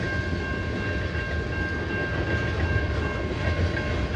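A CN freight train rolls steadily past, close and loud, with a sustained tonal horn-like note held over the continuous rumble of the cars.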